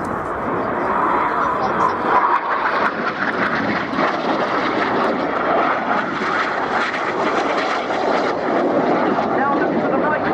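Red Arrows jets fly a close-formation display at RIAT 2014, heard as a loud, steady roar of engines throughout, with an announcer talking over the noise.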